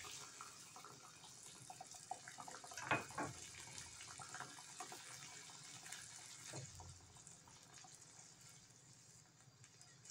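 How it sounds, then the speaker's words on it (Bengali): Water poured into a cooking pot of fried chapila fish curry, a soft continuous splashing trickle with a brief louder gush early on, faint and close. "এখানে আরও কিছু পরিমাণ জল দিয়ে দেব"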